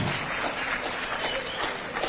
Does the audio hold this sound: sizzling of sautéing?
no